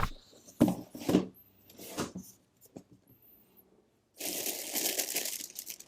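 Crisp crinkling of thin waxy wrapping paper from an Air Jordan 7 sneaker box in short bursts, with quiet pauses between, then a longer loud rustle near the end.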